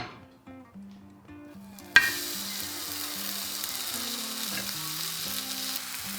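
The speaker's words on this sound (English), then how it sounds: "But right now, we're getting that first sear." A T-bone steak hits a very hot pan and bursts into a loud, steady sizzle that carries on with light crackling, while background music plays underneath.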